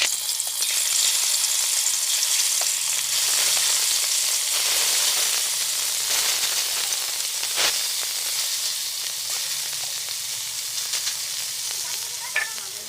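Shol fish fries in white cooking oil, a loud, steady, broadband sizzle and hiss that holds for the whole stretch, with a sharp crackle or pop near the middle and slight fading toward the end.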